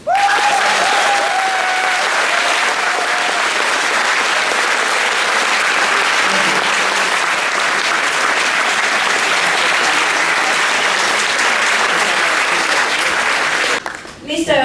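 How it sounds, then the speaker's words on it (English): Strong, sustained audience applause at an opening ceremony, loud dense clapping filling the hall for about fourteen seconds before cutting off abruptly. "Let's give him a more stronger clapping."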